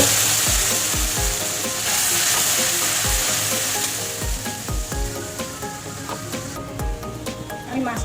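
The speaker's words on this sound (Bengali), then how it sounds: "আমি তেলের মধ্যে পেস্টটা দিয়ে দেবো" Spice paste sizzling and frying in hot oil in a pan, a close, steady crackling hiss with scattered stirring knocks and scrapes, no talk.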